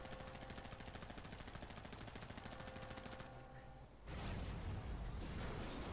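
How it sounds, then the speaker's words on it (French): Rapid automatic gunfire rattles nonstop in a GTA video game shootout, dense and loud, then drops briefly before a second heavy burst of shots and impacts resumes. "Merde, il me tire dessus!"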